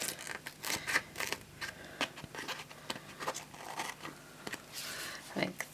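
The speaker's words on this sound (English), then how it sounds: "I'm going to cut this down just to make it easier to work with." Scissors cutting paper for card making: a quiet, close run of crisp snips and rustles, coming in quick irregular bursts.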